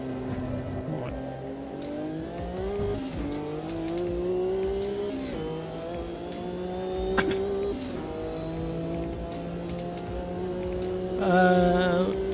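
A turbocharged racing car on cold tyres in a sim racing game, its engine droning and rising through the gears with a whining turbo spool and a short tyre squeal, steady and moderately quiet.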